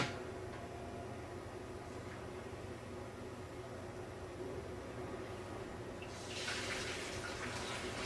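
Two gallons of liquid drain from a soft-serve ice cream machine in a steady, faint watery rush that swells a little louder near the end, with no talking.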